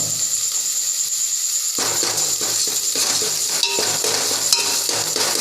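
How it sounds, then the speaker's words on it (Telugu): Ginger stirred into onions frying in a pan for a Hyderabadi chicken curry, giving a steady loud sizzle with scraping and clinking from the spoon that picks up after a quieter start. "అల్లం వేసుకొని బాగా మిక్స్ చేసుకోవాలి"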